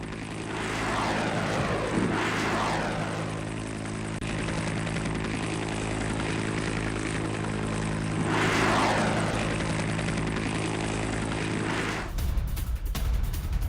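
A military drone drones steadily overhead above Russian positions, its propeller engine a continuous buzzing hum that swells and fades slightly, then cuts off abruptly near the end.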